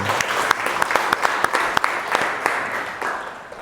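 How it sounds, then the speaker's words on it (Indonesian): Classroom applause during an Aqidah Akhlak lesson, a burst of clapping from a group of students with sharp individual claps standing out, steady and fairly close for a few seconds. "Kita berikan aplaus untuk Mas Samsul."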